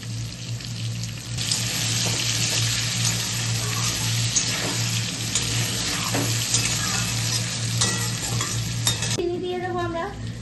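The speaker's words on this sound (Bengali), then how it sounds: "আলুটা একটু ভাজা ভাজা হয়ে গেছে, এবার পেঁয়াজটা যেটা বাকি ছিল সেটা দিয়ে দিলাম।" Potatoes and onions frying together in a pan for a Bengali mutton curry make a loud, steady, close sizzle that fills the whole stretch, with occasional stirring scrapes and a brief different tonal sound at the very end.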